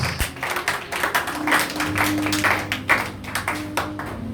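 A church congregation claps in quick steady rhythm to acclaim Jesus, the hand claps loud and continuous over sustained singing or music.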